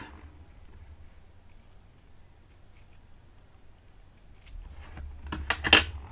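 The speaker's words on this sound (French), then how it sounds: "Je vais venir découper dans mon poinçon, dans ma petite découpe" A small punch cutter snips paper in a stained-glass effect craft, quiet near-silence broken by a quick cluster of crisp metallic cuts and clicks close by.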